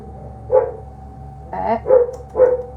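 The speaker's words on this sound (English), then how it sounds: "Got a little dog here trying to mount the bigger dogs." Dogs at an animal shelter bark four times, nearby and loud, one sharp bark followed by a quick cluster of three over a low steady hum.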